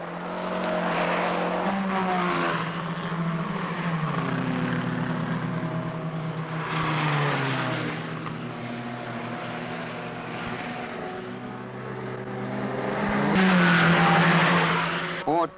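Rally cars race at the 1968 Finland rally, with engines loudly revving up and down through gear changes as a GT car runs onto an escape road. A narrator speaks over the engine noise.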